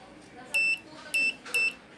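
An AWEI Y668 Bluetooth speaker, opened up for diagnosis, emits three short high-pitched electronic beeps at a steady pace, fairly quiet over a hushed room.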